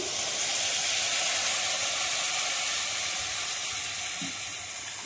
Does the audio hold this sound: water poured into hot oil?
yes